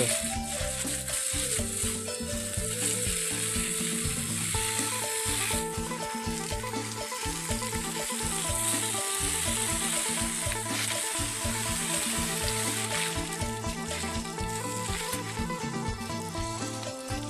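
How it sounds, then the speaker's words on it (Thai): Fresh Chao Phraya mullet fish frying in hot oil, a loud steady sizzle and crackle running continuously throughout with occasional rattling stirs and no talk. "พอได้ทอดครับสดๆเลยพี่น้อง"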